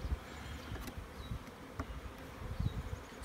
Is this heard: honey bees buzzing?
yes